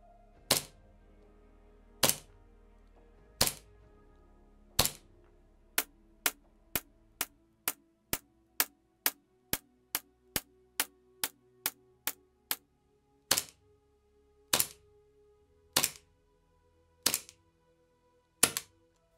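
Army Armament TTI PitViper gas blowback airsoft pistol firing a string of sharp, loud shots, first spaced slowly, then in a quick steady run, then slowing again, each crack clean and alone with no talk.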